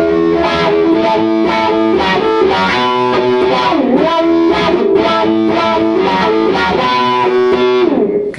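Electric guitar solo played through a wah-wah pedal and distortion: loud, sustained, overdriven notes with sweeping wah bends, played at full speed without pause.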